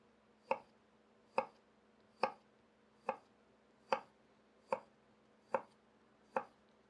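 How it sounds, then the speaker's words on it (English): A knife cuts cucumber into thin slices on a cutting board, giving eight crisp, evenly spaced chops about a second apart, close and clear over a quiet background. "You're going to cut the cucumber the same exact way. Thin pieces."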